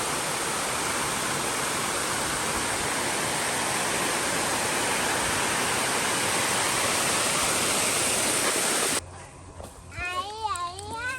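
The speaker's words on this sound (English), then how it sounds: "Look at the waterfall." Erawan waterfall in Kanchanaburi, Thailand roars as a steady, dense wash of falling water up close, cutting off abruptly before a person starts talking.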